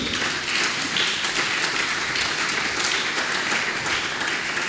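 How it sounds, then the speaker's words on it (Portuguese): A church congregation claps together in praise, a steady wash of many hands ringing through the hall for several seconds at even volume, with no voices rising above it. "Est-ce qu'on peut acclamer pour le Seigneur? Podemos aplaudir."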